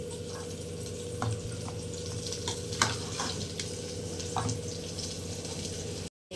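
Onions and garlic frying in oil for a hotel-style drumstick sambar, a steady close sizzle with occasional stirring clicks and a low hum, cut to silence briefly just before the end.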